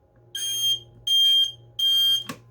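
Three loud, piercing electronic beeps from a standard household smoke alarm, each lasting under half a second with short gaps between, followed by a brief click, over a steady low hum.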